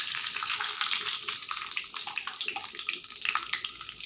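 Dense, crackling sizzle of mustard seeds popping in hot oil while tempering for a South Indian dish, steady and close throughout with no talking.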